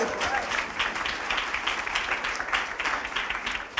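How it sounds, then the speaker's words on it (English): A TEDx audience applauds steadily, dense clapping that holds at an even level throughout, with no talk over it. "let's give them a round of applause"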